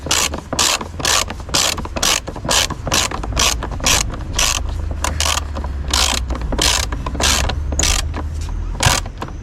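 A ratchet drives the air filter housing screws on an Opel Astra H, giving fast, loud, evenly spaced clicks over a steady low mechanical rumble.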